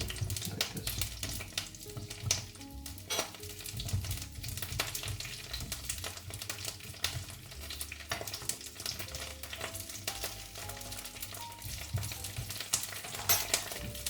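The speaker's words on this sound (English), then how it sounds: "we'll come over here and put the asparagus in the pan like this" Asparagus sizzling in a hot frying pan, a dense crackling fry with irregular pops and occasional utensil clinks, close and continuous without any talk.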